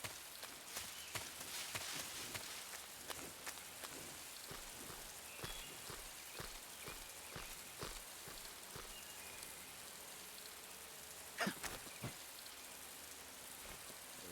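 Steady rain falls in the stealth video game Metal Gear Solid 3, a dense wash of drops with scattered sharper taps and small splashes, no voices over it.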